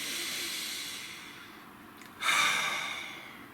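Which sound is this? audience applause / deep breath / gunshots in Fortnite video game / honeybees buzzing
deep breath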